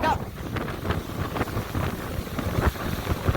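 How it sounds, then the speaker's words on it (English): Tropical Storm Barry's strong winds gust steadily against the microphone on the coast near New Orleans, a loud, continuous rumbling buffet that rises and falls without pause. "The wind's ripping in my face."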